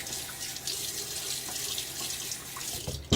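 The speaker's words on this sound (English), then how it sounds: "I just splash my face with water and it happens to work for me." Running tap water splashing at a bathroom sink as a face is wetted before shaving, a quiet continuous trickle and splash with a brief louder knock at the end.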